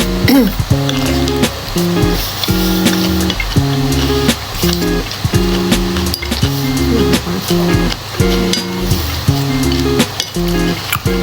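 Plant-based crispy pork is stir-fried with vegetables in a pan, with a spatula clinking and scraping against the metal in quick repeated strokes over a steady sizzle.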